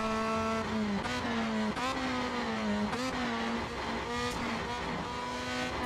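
A race car in the Assetto Corsa driving game, running an Argentine touring-car mod, revs high and steady. The engine drops briefly at each upshift and then climbs again, loud and close, without any voices.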